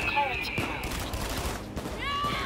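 Gunfire in the Payday 2 co-op game as players shoot at a shield-carrying enemy, a short burst of shots mixed with voices talking at the start and end.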